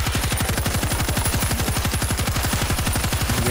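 Rapid automatic gunfire in World War Z Aftermath, set in Rome, fires as one fast, even, continuous burst of shots, loud and close, with no talk over it.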